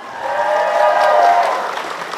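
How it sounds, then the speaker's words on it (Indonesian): Audience at a Balinese quiz semi-final claps together in one dense burst of applause, building and fading over a couple of seconds, fairly loud and without distinct voices. "Tepuk tangannya mana?"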